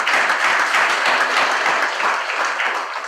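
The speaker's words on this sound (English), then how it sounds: "Please clap for Mr. Adam." Dense audience applause fills a university Law Society Lawyers' Day gathering, steady and loud throughout before tapering slightly at the end.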